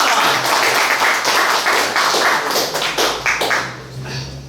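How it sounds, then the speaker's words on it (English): Audience applause at a SXSW PropTech pitching event in Austin: a room full of steady, dense clapping that fades out near the end. "Let's give David a round of applause."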